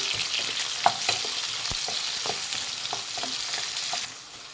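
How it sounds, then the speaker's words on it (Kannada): Two medium onions, sliced lengthwise, frying in hot oil: a steady bright sizzle with occasional stirring clicks and scrapes, close and fairly loud, fading slightly at the end. "ಈರುಳ್ಳಿ ಹಾಕ್ತಾಯಿದ್ದೀನಿ. ಈರುಳ್ಳಿನ ಫ್ರೈ ಮಾಡಿ."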